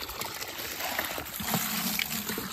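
Water pours from a bucket onto a backyard garden during morning watering, a steady trickling splash running continuously at moderate level with no talk over it.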